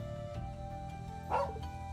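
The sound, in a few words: dog barking in video game Trails of Cold Steel II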